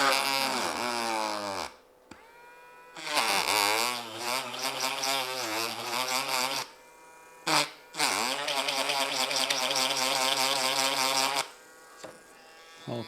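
Small electric drill whirring in long bursts with short pauses, its motor pitch wavering as it bites into material, loud and close.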